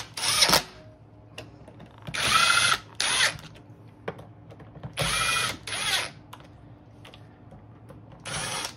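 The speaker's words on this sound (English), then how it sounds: "The four screws get tightened down." A power driver tightens the four screws on the motor cover of a Neptune variable speed pool pump: several separate whirring bursts with short ratcheting clicks and pauses between them, close and fairly loud.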